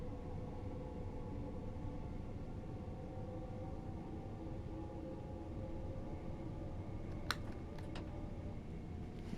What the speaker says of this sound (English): Motor sounds are very spooky, aren't they?